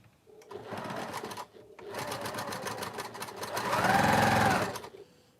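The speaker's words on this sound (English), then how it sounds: "Oh, my bobbin's still going." Sewing machine running steadily while winding a bobbin, a continuous mechanical whir with a brief pause, then growing louder and faster near the end, close by with some talking in the room.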